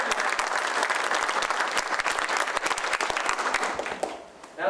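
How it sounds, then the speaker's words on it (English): Steady applause from an audience at a village board of trustees reorganizational meeting, dense clapping that continues for several seconds before quickly tapering off near the end. "I think we should give Justice Clark another round of applause for her"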